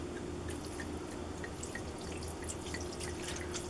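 Liquid drizzles over a Thanksgiving turkey in a kitchen, a soft continuous trickle dotted with small drips and spatters, faint and steady with no talk.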